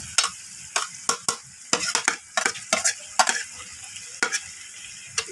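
Cabbage, capsicum and tomato are stir-fried in a hot pan, with a spatula scraping and tossing in quick, irregular strokes over a soft sizzle, close and fairly loud, with no talk.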